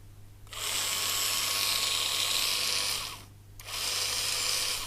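Repaired Renault Scenic 2 parking brake motor, freshly greased and run on a 5 V bench supply, whirs with a steady high-pitched electric drone for about three seconds, stops briefly, then starts again; close, smooth and even, with a faint mains hum underneath.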